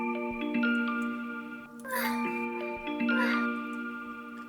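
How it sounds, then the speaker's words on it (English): An eerie music box-like synth plays plinking melodic notes while a sweeping EQ filter adds a wah wah effect in two swells, fairly quiet and alone. "I EQ'd it at the beginning and right here, so it kind of like has a wah wah effect."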